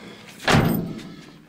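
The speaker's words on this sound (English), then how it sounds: "Let me close the door here." A door closes with a single close, dull thud that decays quickly into room noise, with no voices.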